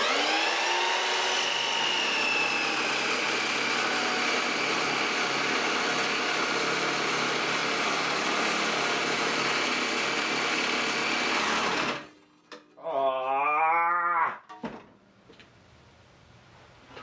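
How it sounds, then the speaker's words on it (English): A Milwaukee dry cut saw cutting metal gives a loud, sustained high-pitched grinding whine for about twelve seconds. It then stops abruptly, leaving a short winding-down warble and quiet. "We're gonna use the Milsucky dry cut saw."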